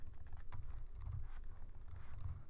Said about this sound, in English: I'll type this.